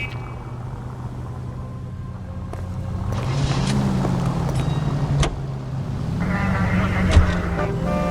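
Car engine droning steadily in L.A. Noire, a low rumble that rises as the vehicle accelerates, with faint ambient city noise and a brief thump near the end; no talking over it.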